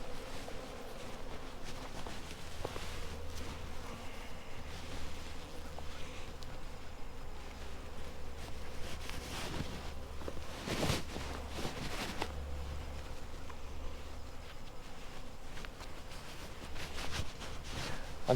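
Honey bees buzz around an open beehive, a dense continuous drone close by, with occasional louder passes as individual bees fly near and a few faint handling noises.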